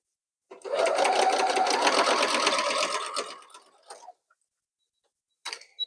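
A sewing machine chain-pieces quilt squares with small yellow squares, one quick burst of fast whirring stitching that slows and trails off, then a short mechanical click or two after a pause.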